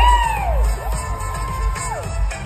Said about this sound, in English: Seriously, you cheer loud.